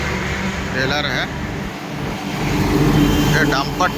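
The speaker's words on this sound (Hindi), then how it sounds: "ये डंपर टेलर है, बहुत सजा हुआ।" A heavily decorated dumper trailer truck passes on a national highway, its steady engine and tyre roar swelling loud and close over continuous traffic noise, with a voice talking over it.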